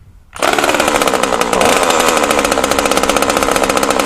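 A Scheppach small gasoline engine starts on a single pull after a brief quiet moment, then runs loud and steady with a rapid buzzing rattle that continues to the end.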